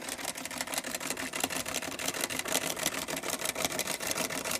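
A Singer 306 sewing machine stitches zigzag in a rapid, steady mechanical clatter, heard close and alone with no talking.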